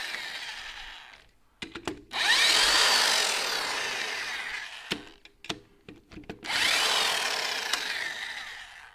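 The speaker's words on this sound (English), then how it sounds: "big old electric impact wrench" Electric impact wrench working single lug nuts in a garage, two sustained loud bursts of a couple of seconds each, separated by short clicks and knocks, no talking.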